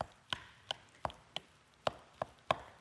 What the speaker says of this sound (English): I'm just going to keep mashing these up.